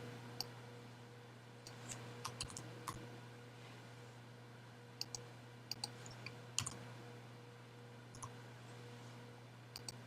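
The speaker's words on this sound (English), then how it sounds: "I'm going to click on the picture image and you're going to edit" Sparse, faint computer mouse clicks, single and in small pairs, ticking lightly over a steady low electrical hum.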